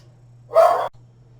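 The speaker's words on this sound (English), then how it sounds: "Oh, I don't know what those dogs are barking at." A single short bark from one of several neighborhood dogs on a cul-de-sac, loud and fairly close, standing alone over a steady low hum.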